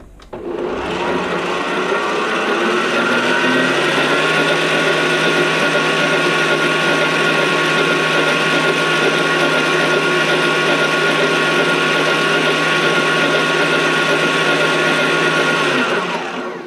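An electric mixer beating seed cake ingredients together, a steady loud whirring drone that starts abruptly and runs unbroken for about fifteen seconds before cutting off, close by and with no talking.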